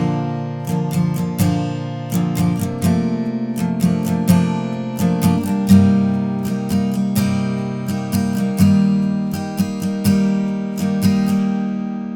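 Acoustic guitar strumming the chords of a song in a slightly more advanced pattern, steady rhythmic strokes ringing loudly and alone for about twelve seconds.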